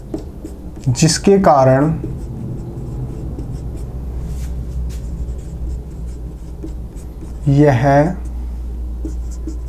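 A hand writing out a definition, likely pen or chalk scratching in short bursts against a low steady rumble, mostly under a voice speaking Hindi.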